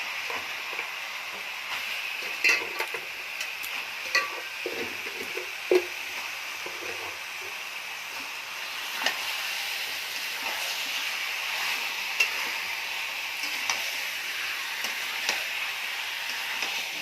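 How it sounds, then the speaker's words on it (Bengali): Chicken pieces tossed into hot spiced oil for chicken jhal, a steady hissing sizzle with intermittent clacks and scrapes of a spatula stirring, moderately loud and without voices. "এবার আমি মাংসটা দিয়ে দিচ্ছি।"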